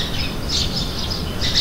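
Morning birdsong outdoors, thin high chirps and squawks repeating in short bursts over steady background noise, fairly faint.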